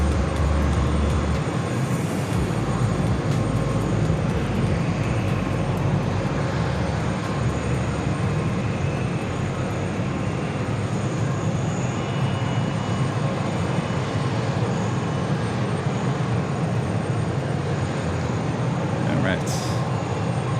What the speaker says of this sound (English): And look behind me, Emirates A380 up close and personal.